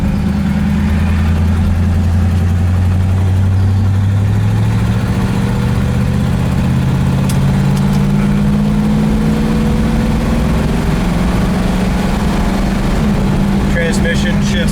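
The engine of a 1954 Mercury Monterey runs as the car is driven, a steady low drone that rises and falls gently in pitch under fairly loud ongoing road and cabin noise.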